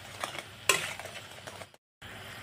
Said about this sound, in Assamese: এনেদৰে হেতাটো দি অলপ লৰাই দি আছে